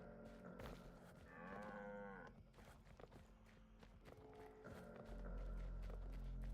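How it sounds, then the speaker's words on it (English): A cow moos in the Weird West video game, a drawn-out bellow followed by shorter lowing calls, with footsteps and game ambience around it and a steady low hum at the end. "No, it's just a cow."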